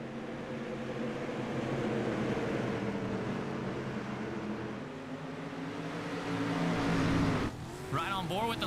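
Race cars lapping a track in a 50-lap race, a steady droning engine roar rising and falling as cars pass, with a whining pass near the end and a commentator's voice running over it.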